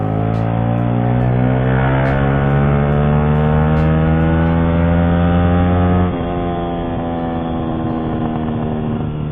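A Yamaha R15 VVA motorcycle accelerating hard in third gear, its engine note climbing steadily in a loud buzzing rev that drops slightly near the end and keeps pulling, close and alone without talk.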